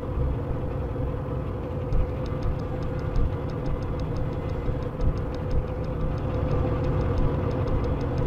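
A steam-style train engine from the Choo Choo Charles mobile game runs steadily with a low, continuous rumble, and a faint, regular clicking repeats over it with no one speaking.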